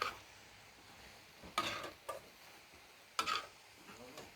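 Cabbage stir-fries with sun-dried pork in a pan, with soft sizzling broken by a few spaced scrapes and taps of the spatula, fairly quiet and close.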